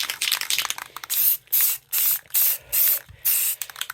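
Light green spray paint hisses from an aerosol can onto a gun in five steady bursts of about half a second each, separated by short gaps, after a stretch of irregular hissy rattling.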